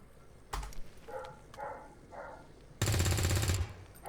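Gunfire in the video game XCOM 2: a sharp shot early on, then a loud, dense burst of rapid automatic fire lasting under a second, with quieter game sounds between.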